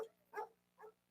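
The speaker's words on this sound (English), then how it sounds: "That's Blue Boy barking up a storm" Three sharp, close dog barks spaced evenly about half a second apart, loud against a quiet low hum with no talking.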